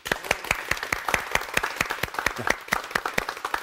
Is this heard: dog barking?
no